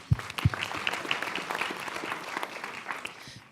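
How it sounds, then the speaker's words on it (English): An audience at a panel session on youth opportunity applauds, with a couple of sharp close claps at the start and then a dense, even spread of clapping that carries on steadily. "yes, let's applaud"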